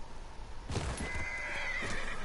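A horse lets out a short whinny, rising sharply and then trailing off over a couple of seconds against quiet background noise.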